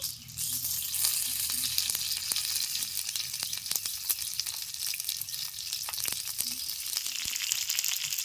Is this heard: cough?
no